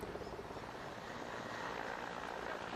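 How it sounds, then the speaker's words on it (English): A helicopter heading for an open field gives a steady, broad engine-and-rotor roar that holds at an even, moderately loud level throughout, with no voices. "But a helicopter did come and headed for an open field."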